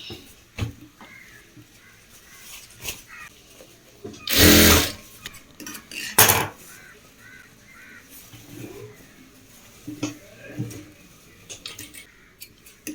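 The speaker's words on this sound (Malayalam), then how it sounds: "ഇതിൻ്റെ മറ്റേ മറ്റേ ഭാഗം ഇതുപോലെ മടക്കി തയ്ക്കുക" A sewing machine stitches the folded hem of fabric shorts in two short, loud bursts of whirring, with quiet handling noises between them.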